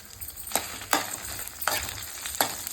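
Coriander seeds and dried red chillies fry in a pan over low heat, a steady soft sizzle punctuated by four sharp scraping stirs spaced about a second apart, close and moderately loud with no talking.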